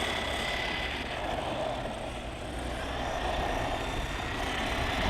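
An ARRMA Voltage Fazon RC car running at full speed on six Li-Ion batteries, giving a steady, continuous motor whine and rolling rumble that holds at the same loudness throughout, with no talk.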